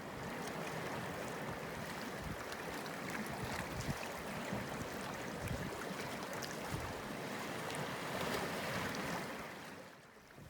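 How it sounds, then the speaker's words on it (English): Steady rushing of flowing water, a continuous broadband wash that is quiet and even, with no voices, fading slightly at the end. "footage I've taken both in the US and other places in the world of flowing water"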